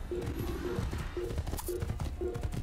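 Horse hooves clip-clop in a steady rhythmic gait in Assassin's Creed, a white horse trotting with repeated hoof strikes while a player talks over the game sounds.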